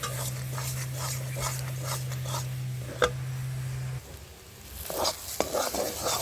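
Bottle gourd leaves being ground into a paste by hand, heard as a series of regular scraping strokes. A steady low hum runs under the first few seconds, then stops, and the grinding continues on its own.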